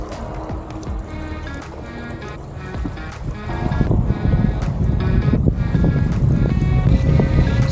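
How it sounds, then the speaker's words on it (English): A GPS trolling motor fitted with an AutoBoat adapter on the stern of a kayak runs steadily on the water, its whine building louder partway through amid wind and water noise. "We then turn the trolling motor to speed 5."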